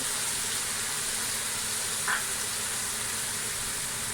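Whole spices hitting hot oil for a home chicken curry, giving a steady, even sizzling hiss that stays constant throughout with no talking.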